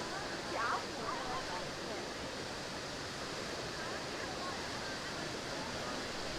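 Athabasca Falls, a waterfall in Jasper National Park, rushes as a steady, dense roar of water that fills the whole stretch without pause, with no voices rising above it.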